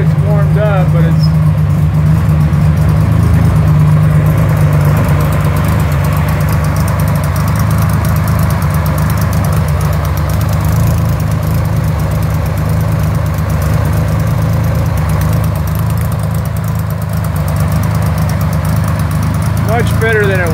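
A trike engine idles just after a cold start, its steady low rumble running loud and close without a break for the whole stretch.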